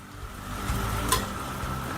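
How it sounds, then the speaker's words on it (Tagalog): Food frying in a wok, a steady broadband sizzle with stirring scrapes that swell midway, close and continuous with no talk. "Salang na tayo sa kawali."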